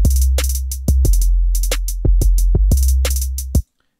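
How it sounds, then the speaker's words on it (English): A trap beat with booming kick and heavy sustained bass, layered with crisp hi-hats in busy rhythmic bursts, looping for a few bars before cutting off abruptly. "Now your beat should sound something like this"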